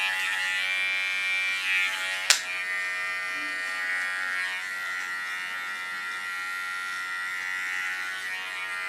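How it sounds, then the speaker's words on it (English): Small electric hair clipper buzzing steadily and close while trimming a hair contour at the neckline, with one sharp click partway through. "With my small wall clipper I clean the contour, so I get rid of all the small hairs"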